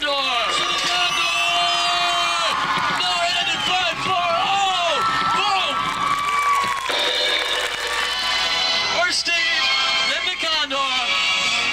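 A crowd at a 1992 outdoor BMX stunt show in Tampa, Florida cheers and whoops loudly and continuously, with amplified announcer-style voices and shouts mixed over the noise.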